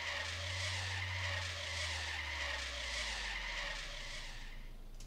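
Tires skid and squeal as a car brakes hard in the video game Trader Life Simulator, a loud steady screech over a low engine tone that drops in pitch and fades out near the end.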